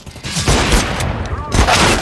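Rapid gunfire in Counter-Strike: Global Offensive, two dense loud bursts of shots rattling close by, the first lasting about a second and the second starting soon after, with faint talk underneath.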